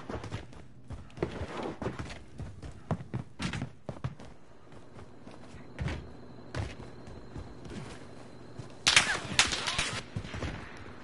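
Scattered gunshots ring out in Call of Duty Warzone, sharp separate cracks spaced irregularly among footsteps and thuds, ending in a louder rapid burst of fire.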